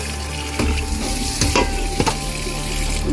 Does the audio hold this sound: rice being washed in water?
yes